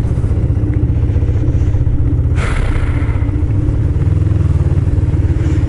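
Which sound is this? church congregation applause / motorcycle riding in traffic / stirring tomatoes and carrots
motorcycle riding in traffic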